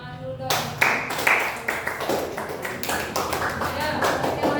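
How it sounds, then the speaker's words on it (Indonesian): Applause in a classroom after a group presentation: many hands clapping in a dense, steady patter that starts abruptly and carries on for several seconds, with a voice or two audible underneath. "Kasih tepuk tangan dulu dong."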